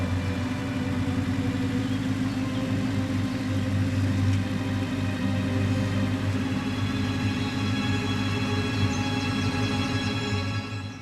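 A car driving, heard from inside as a steady, loud low engine rumble and road drone that holds evenly throughout with no talking.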